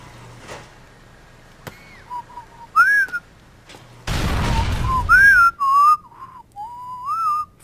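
A loud, dense burst in GTA IV marks an explosion, amid in-game whistling tones and beeps that sound before and after it.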